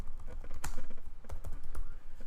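Typing on a computer keyboard while writing Excel VBA code, a close, brisk run of key clicks with uneven rhythm and a few sharper strikes, with no talk.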